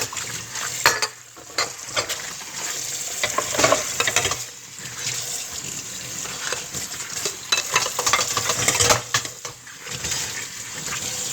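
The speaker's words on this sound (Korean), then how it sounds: "설거지를 하고 나서" Dishes being washed by hand in a home kitchen, with steady clattering, scraping and running-water splashes close by, rising and falling in busy bursts over the whole stretch.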